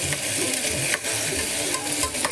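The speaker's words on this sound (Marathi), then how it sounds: "बरो मातसो मोव जायसर भाजून घेवया." Something frying in a pan, likely onion for a shortcut biryani, sizzling steadily throughout with a few sharp stirring scrapes; close and fairly loud, no voices.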